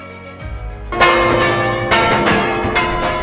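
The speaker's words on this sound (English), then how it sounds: "From that first official strike, London set its watches by the bell they called Big Ben." The great bell known as Big Ben in London's clock tower strikes, a deep resonant clang ringing out over a low hum, then a second strike that swells the lingering tone.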